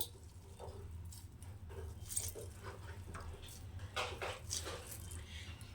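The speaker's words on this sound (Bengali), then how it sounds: "এখন দেখুন আবারও জল বেরোচ্ছে" Water drips and trickles from squeezed grated radish into a plate in a kitchen, coming as scattered soft splashes and spatters over a low background hum.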